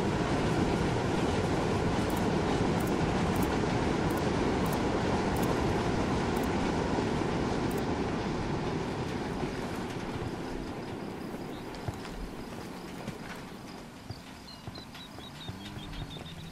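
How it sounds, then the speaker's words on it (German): A train rumbles past in the video game Ghost Recon Wildlands, a loud broad roar that fills the scene and slowly fades, with faint rhythmic clicks early on. "Hier kommt jetzt ein Zug lang anscheinend."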